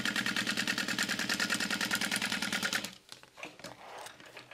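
A sewing machine runs a second stitch line on a hip bag, its needle chattering in a fast, even mechanical rhythm for about three seconds before stopping, followed by soft handling noises of the fabric.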